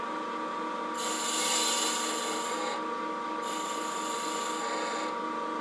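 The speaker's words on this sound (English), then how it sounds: "take a spindle gouge and start shaping that bead" A spindle gouge shaving a bead on a boxwood box spinning on a lathe, giving a steady whirring hum under bright hissing cuts that come in a few passes of one to two seconds each.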